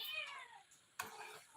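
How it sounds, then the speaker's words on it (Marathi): A cat meows twice, soft and fairly close: a drawn-out falling meow, then a shorter one after a brief pause. "आमचं माऊली बाळ सारखं मांजराला इतका त्रास देते"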